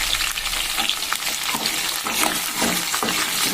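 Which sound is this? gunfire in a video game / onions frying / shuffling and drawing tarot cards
onions frying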